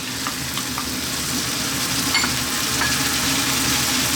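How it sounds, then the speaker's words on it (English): Kidney beans and corn being stirred into frying onions for a vegetable chilli, a loud, dense continuous sizzle with scraping and light clatter of stirring, close up and without talk. "Now we're going to add in our beans, kidney beans,"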